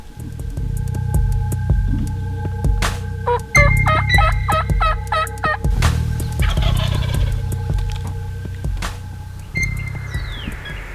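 Wild turkeys gobble in a Kansas field during a fall hunt, with several rattling gobbles rolling out one after another amid softer clucks and calls, fairly close and clear.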